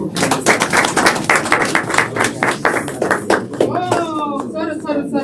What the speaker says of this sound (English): A clap of hands once again